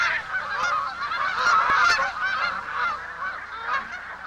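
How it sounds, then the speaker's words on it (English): Migrating geese arriving in spring in Alaska, a flock honking continuously with overlapping calls, loud and fairly near, with no voices. "As the land is released from the grip of winter, the first geese arrive."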